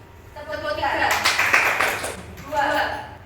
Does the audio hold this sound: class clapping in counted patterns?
yes